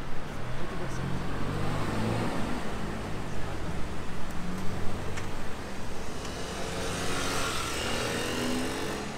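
A Mercedes-AMG GT Black Series sports car drives past on a Monaco street, a steady roar rising above the street noise, with people talking nearby.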